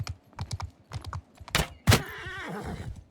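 Hooves clatter in quick galloping beats and a horse neighs in the Bannerlord medieval battle video game, with sharp impact hits midway and a loud descending whinny near the end.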